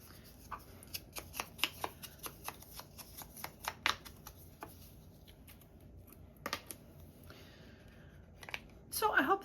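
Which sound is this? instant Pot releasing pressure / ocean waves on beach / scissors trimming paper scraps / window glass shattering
scissors trimming paper scraps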